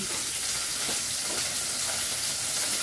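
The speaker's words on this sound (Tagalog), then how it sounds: "nagpiprito tayo, napapakulo" Pork marinated in oyster sauce, salt and black pepper fries in a pan, giving a continuous, even sizzle with no talk over it.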